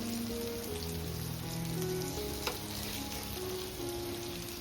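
Fresh creek fish frying crisp in a pan, giving a loud, continuous close-up sizzle that holds evenly throughout, with a faint low hum underneath and no talking.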